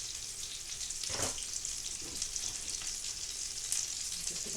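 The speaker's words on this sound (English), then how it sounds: "The back of my pan seems to be hotter, so let's give these guys a chance to cook." Coconut-breaded shrimp frying in a hot pan, a continuous crackling sizzle with scattered pops and spatters, fairly close and moderately loud, no talking.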